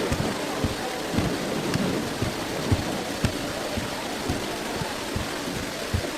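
Steady rain hisses throughout, with low thunder rumbles rolling in at intervals, fairly distant and continuous.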